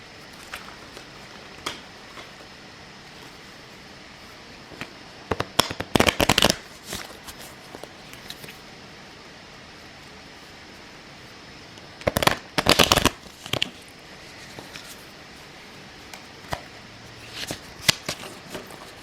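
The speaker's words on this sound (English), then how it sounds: "out of 23 cards, I'm going to shuffle these" A deck of 23 playing cards being shuffled by hand during a fortune-telling session, heard as three or four distinct riffling bursts spread across quiet stretches, close and moderately loud with no talking.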